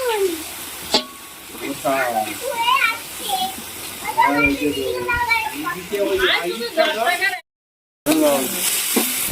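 Spices and chilli powder sauté in hot oil with a steady, hissing sizzle that runs beneath continuous speech, broken by a short silent gap near the end.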